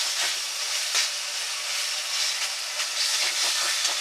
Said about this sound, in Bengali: কচু শাকটা খুব ভালো করে ভাজতে হবে।